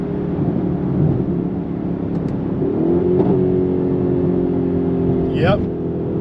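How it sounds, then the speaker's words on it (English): A Mercedes-Benz GLE 63 AMG S Coupe engine drones loudly up close as the car is driven, its steady engine tone rising in pitch midway through, with a brief swell of revs near the end. "This motor is absolutely angry, and it's a beast."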